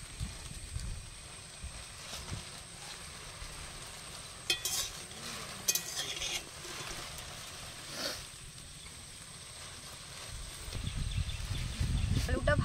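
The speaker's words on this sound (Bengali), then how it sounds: "আলুটা ভাজা হয়ে গেছে" Potatoes frying in oil in a pan, a steady sizzling hiss broken by occasional sharp clinks of stirring, growing louder toward the end.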